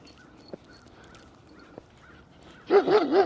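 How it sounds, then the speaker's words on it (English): A bunch of big dogs bark in a short burst of several loud, overlapping barks near the end, after a quiet stretch with a couple of faint knocks. "There's a bunch of big dogs."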